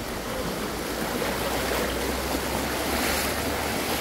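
Flowing river water makes a constant, close broadband rush with a low rumble underneath and no voices.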